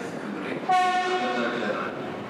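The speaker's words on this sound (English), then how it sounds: "Train sy'n nesau at platform 4" A train pulling into platform 4 at Cardiff Central station sounds a steady, loud horn-like tone that starts abruptly partway through and holds to the end over constant station noise.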